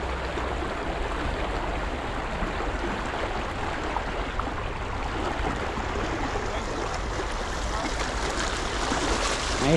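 A fast-flowing river current rushes steadily along a path leading to a giant tilapia fishing spot, a constant broadband wash of churning water at moderate level with no break.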